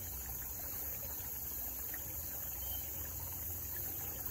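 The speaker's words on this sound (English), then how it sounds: "Still running water out of that spring." Spring water runs out of the ground in a steady, soft flow, a faint continuous trickle heard alone without voices.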